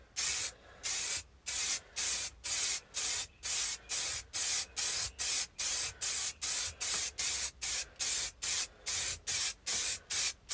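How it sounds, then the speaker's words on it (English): Short, even bursts of spray hiss repeat in a steady rhythm, about twenty pulses with brief gaps, loud and close while coating an epoxy side table. "Let's spray up the rest of it first."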